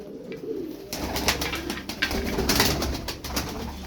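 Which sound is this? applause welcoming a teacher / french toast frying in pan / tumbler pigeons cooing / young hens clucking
tumbler pigeons cooing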